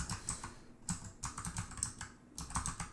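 Keys clatter on a computer keyboard in quick bursts separated by short pauses, close and clear with no voices.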